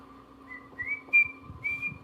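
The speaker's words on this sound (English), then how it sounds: "Can you whistle a song?" A few short whistled notes rise and hold briefly, with faint rustling and a steady background hum.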